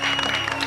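A studio audience on a cooking show gives a short, lively round of applause, crowd clapping filling the moment with a faint murmur beneath.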